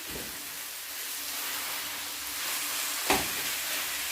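Ground beef frying in a pan for penne alla vodka, a steady broadband sizzle with a brief scrape or stir near the end, close and alone.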